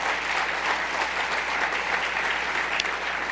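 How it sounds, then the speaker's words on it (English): An audience at a talk-show event breaks into loud, sustained applause, a dense and even wash of clapping that lasts throughout. "Don't clap, because I only got 3 minutes."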